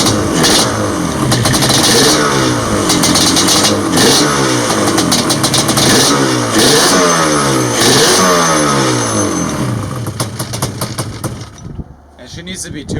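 A Yamaha Banshee ATV engine, running lean, fires up and revs in loud, rising and falling two-stroke bursts close by, then idles down and cuts out briefly before sputtering again.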